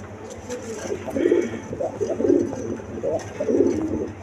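Breeding pigeons kept for eggs and chicks give repeated low, throaty coos in several bursts nearby, with talk in the background.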